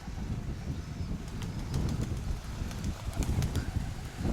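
Young pigeons take to the air with soft bursts of wing flapping and a few sharp wing claps, fairly faint against low outdoor rumble.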